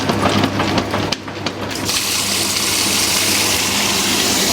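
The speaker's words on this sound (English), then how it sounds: "I'm gonna add the water" Water gushing into a top-loading washing machine with a dual action agitator, a strong steady rush of filling water that swells to a loud continuous roar after a brief splashy start.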